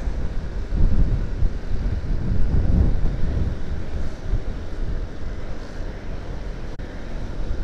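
A cool breeze buffets the microphone during a motorcycle ride on a touring route near Boyolali, a steady low rushing roar of wind that swells and eases without any talk.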